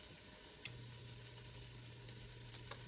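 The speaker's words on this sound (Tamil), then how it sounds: "தக்காளி நல்லா வதங்கட்டும்." Tomatoes sautéing in a pan, a steady, quiet sizzle with a low hum beneath and occasional soft stirring clicks.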